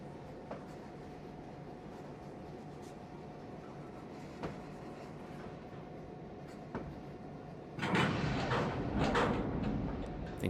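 A Trainz 2019 freight train pulled by two RS3 locomotives rumbles steadily along the track, with faint periodic clicks, before a louder, rougher burst of mechanical noise swells near the end.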